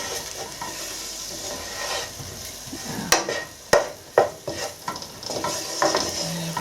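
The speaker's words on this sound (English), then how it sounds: "I'm going to stir that into the meat" Spices being stirred into lamb meat in a pan over very low heat: a steady soft sizzle with scraping stirs, several sharp clacks of a utensil against the pan near the middle and end, no talking.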